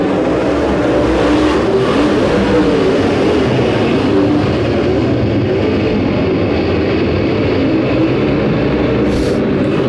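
Race cars at a short-track event roar up to speed as the green flag drops, a loud, dense engine drone that sustains without a break across the whole stretch.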